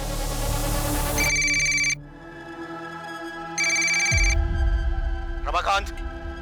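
Telephone ringing in a crime drama scene, two distinct electronic ring bursts separated by a pause, mixed with voices and other background sounds.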